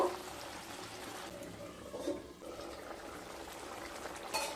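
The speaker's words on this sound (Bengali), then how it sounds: "ঝোলটাকে ঠিক 1 মিনিট ফুটিয়ে নেওয়ার পরে" Fish curry gravy made with katla fish bubbles under a lid on low heat, a faint, steady simmer with gentle liquid burbling and no voices.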